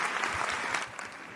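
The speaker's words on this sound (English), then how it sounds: "Applause" Steady applause from an audience, a dense wash of clapping at moderate level that holds evenly throughout with no voices standing out.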